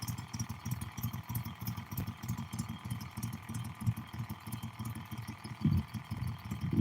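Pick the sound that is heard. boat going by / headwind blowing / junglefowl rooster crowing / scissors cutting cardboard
boat going by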